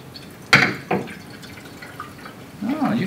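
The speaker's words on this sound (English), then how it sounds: "we'll go ahead and pour our cabbage sludge in here, and we'll let the purple juice drain through" Purple cabbage sludge is poured into a paper-towel-lined colander so the juice drains through, giving a sharp splash followed by a softer one and then a low trickling, dripping wash, all fairly close.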